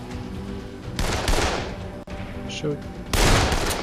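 Enemies fire guns in the video game Dead Island, with two loud, dense bursts of gunfire about two seconds apart, close by, and brief speech heard between them.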